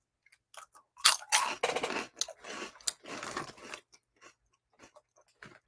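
Close, crisp crunching of a Dorito-like tortilla chip being bitten and chewed, a dense burst of crunches in the middle with scattered smaller crackles before and after, no talking.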